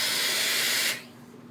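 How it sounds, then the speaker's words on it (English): A Reliable Iron Maven steam iron lets out a strong, close burst of hissing steam that cuts off abruptly after about a second, leaving a low residual hum. "I can just hit it with steam,"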